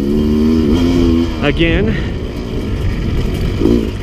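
A 2017 Sherco 300 SE-R dirt bike engine drones steadily on a mountain single-track trail, with a short rise in revs midway. Someone speaks close over the engine noise.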